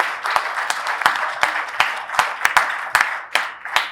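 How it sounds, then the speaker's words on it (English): A civic State of the City audience gives a brief round of applause for the police and fire chiefs, with scattered, fairly close claps at an uneven rhythm over four seconds. "If we could give them a round of applause."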